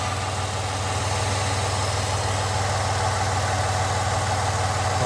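A 2011 Ford Escape with a 3.0 V6 engine, freshly fitted with a new oil separator gasket, idles steadily at close range with a constant low rumble and no talking.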